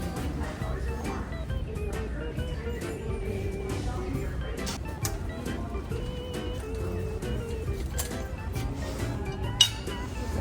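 Plates and dishes clink faintly now and then inside a thrift store while people talk and shop nearby, with one sharper clink near the end.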